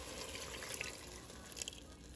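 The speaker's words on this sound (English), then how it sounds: "Okay, so I'm adding water." Water pours into a pot on the stove for oatmeal, a soft, quiet trickle and light splashing with a few faint drips, close by and without talk.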